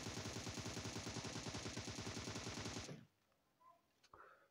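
Rapid automatic gunfire from the mobile battle-royale game PUBG Mobile, a loud, steady burst of closely spaced shots lasting about three seconds, then cutting off to near silence with a few faint clicks.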